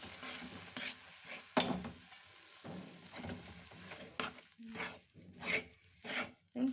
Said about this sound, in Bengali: হালকা হালকা করে চালের গুঁড়ো দিতে হবে আর নাড়তে থাকতে হবে